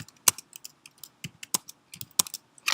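Someone types a short command on a computer keyboard: a quick, irregular run of crisp, close keystroke clicks with brief pauses between them, and nobody speaks.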